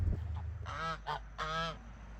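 Three drawn-out, nasal goose honks, moderately loud and fairly close, the last one the longest, heard in a comedy sketch.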